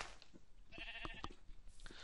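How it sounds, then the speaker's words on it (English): A Minecraft sheep gives a faint, short bleat amid quiet game ambience. "there's more sheep over there"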